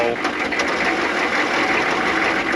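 A cold 1995 6.5L turbo diesel engine in a truck runs steadily with a dense, rapid mechanical clatter, loud and close throughout without letup.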